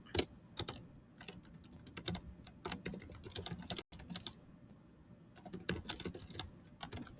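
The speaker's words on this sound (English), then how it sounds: "And then I'm going to type my paragraphs." Keys clatter on a computer keyboard in quick, irregular bursts of close, crisp clicks with brief pauses between them, steady and fairly quiet throughout.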